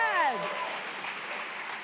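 Audience applause at a plenary address, a steady wash of clapping that begins just after a voice and sustains at even volume to the end.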